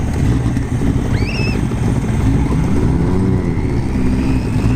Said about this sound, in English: we got two mini bikes coming back.